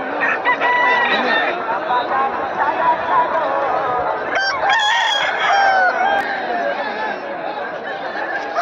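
Several roosters crow and cluck at the Kusumdanga cockfighting fair in Balarampur, overlapping calls near and far above a busy crowd murmur and chatter.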